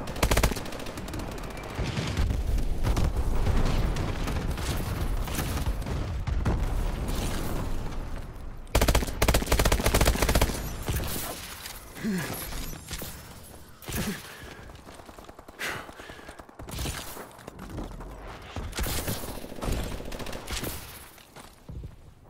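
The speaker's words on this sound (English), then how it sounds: "Bombing run incoming." Loud gunfire bursts and explosive bombing-run blasts in Call of Duty Advanced Warfare multiplayer on a new DLC map, dense rapid fire at first, then scattered shots, mechanical clanks and impacts.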